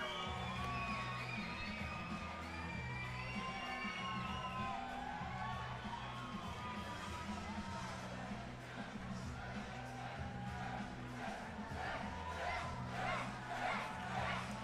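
Crowd at a WKA world title kickboxing bout roaring and cheering steadily as the winner receives his belt, a dense wash of shouting and whoops.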